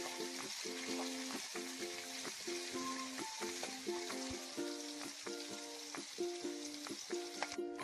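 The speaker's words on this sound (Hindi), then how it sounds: "अब इसमें कैप्सिकम डालेंगे और इसको भी सौटे कर लेंगे" Capsicum sautés in a hot pan for a baby corn chilli dish, giving a steady close sizzle and frying crackle with occasional stirring clinks, no voices.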